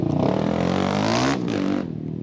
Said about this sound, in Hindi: टीवीएस की जो बाइक्स हैं वही आ रही हैं द 200 सीरीज